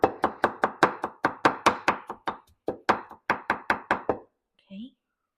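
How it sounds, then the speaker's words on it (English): A knife chops a chunk of meat into pieces on a cutting board, about twenty quick, sharp, evenly spaced thunks close by, with a short pause partway through, then a brief voice at the end. "so cut it into pieces first, and then slice it"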